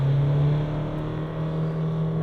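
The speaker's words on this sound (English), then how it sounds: "Now, reverse acceleration test. So, then into reverse, hit the throttle." A 2024 VW Amarok ute accelerates hard in reverse, its engine giving a loud, steady drone with a strong low tone that eases slightly partway through, with no talking.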